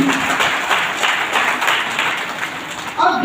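An audience at a business seminar gives loud, sustained applause, a dense steady wash of clapping that runs for about three seconds before a voice comes in at the end.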